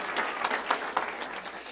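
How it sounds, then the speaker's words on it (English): Audience applause at a community event honoring an organization that supports local youth, a short, fairly quiet patter of many hands clapping from some distance, with no talk over it. "Let's give them a round of applause."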